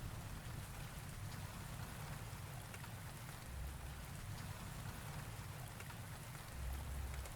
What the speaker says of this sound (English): I'll let the rain take over from here.